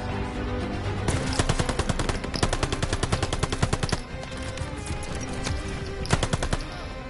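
Rapid automatic weapon fire in the video game Call of Duty Vanguard, with loud sustained bursts of rattling shots, a short pause midway, then more close bursts.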